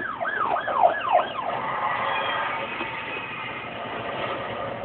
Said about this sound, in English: You hear that? Yeah, like a siren.